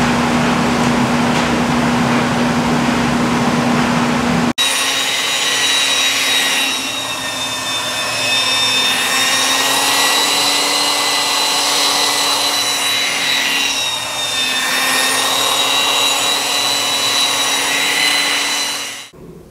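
Laguna Supermax air filtration machine running on its high setting, a loud steady broadband fan whoosh with a constant hum that starts abruptly and continues unbroken to the end.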